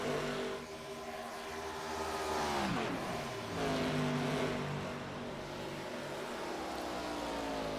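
Race cars in an iRacing ARCA Series stock car race sweep into range, their engines rising in pitch with a clear Doppler bend as they pass close, then a steady multi-car drone continues under the pack.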